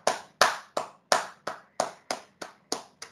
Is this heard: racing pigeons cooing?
no